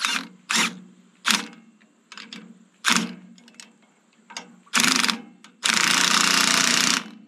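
An impact wrench with a 19 millimeter socket works bolts on a hay tedder under repair. It fires several short, loud rattling bursts close by, then one sustained hammering run of about a second and a half, with no talking.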